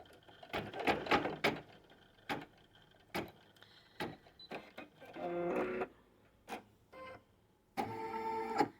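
A home embroidery machine works on a 10 by 10 hoop, stitching a first placement outline: bursts of rapid mechanical needle chatter and whirring separated by short pauses, close and clear.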